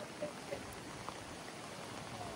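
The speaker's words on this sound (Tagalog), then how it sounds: "Saka yung ulan medyo lumakas." Steady rain hisses continuously on Boracay Island, with occasional drops pattering faintly on a surface; no voices.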